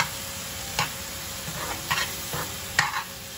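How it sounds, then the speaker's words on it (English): Courgette bhaji frying in an open pan without a lid, a steady close sizzle with several short scraping stirs of a spatula at irregular intervals, no voices. "Now I'm going to cook without the lid."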